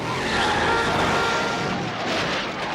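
Car chase from a James Bond film: a loud, dense roar of engines and tyre noise, sustained and close for a few seconds, with no speech.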